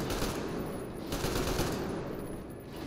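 Dense automatic gunfire rattles continuously in a firefight in the video game Metro Exodus, a loud, noisy burst of rapid shots with no talk over it.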